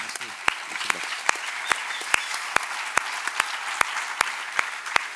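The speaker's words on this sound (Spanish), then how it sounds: "vamos a darle un aplauso a Antonio" Audience applause at a public talk or discussion session, sparse claps rising to a steady loud ovation with sharp individual claps standing out, no voices over it.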